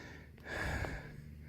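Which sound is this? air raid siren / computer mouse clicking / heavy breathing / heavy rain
heavy breathing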